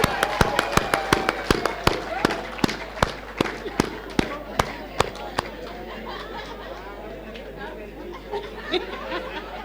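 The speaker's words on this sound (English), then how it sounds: "Give him a round of applause" Scattered, sharp handclaps ring out for Mr. Manzini at a PSC honors and awards recognition night, a quick run of separate claps that thins out and gives way to a steady murmur of crowd chatter.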